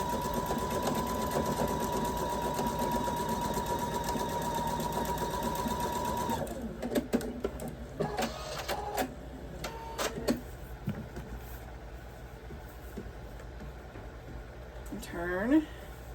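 A sewing machine runs steadily and close, whirring and stitching fabric for several seconds. It then stops, leaving scattered handling clicks and faint rustles.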